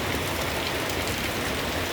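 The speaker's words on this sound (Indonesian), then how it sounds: "Hujan lumayan deras sekali di kawasan ini." Heavy rain pours down in the Lembah Anai valley, a steady, close, dense hiss of water with no pauses and no voices.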